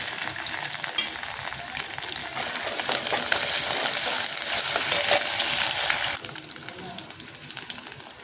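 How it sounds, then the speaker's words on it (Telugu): Ginger frying in hot oil for tempering gives a fairly quiet, crackling sizzle that swells after a sharp tap and stays steady before easing off near the end. "కొంచెం అల్లం తాలింపు చేస్తాను."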